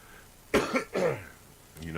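Two or three harsh coughs in quick succession close to the microphone, followed by a quieter throaty sound.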